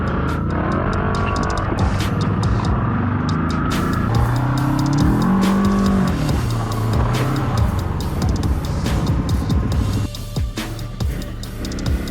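Upgraded off-road buggy driving on a dirt track: a steady, close engine drone with rising and falling revs through the middle and ticking gravel or mechanical clatter, settling slightly quieter toward the end.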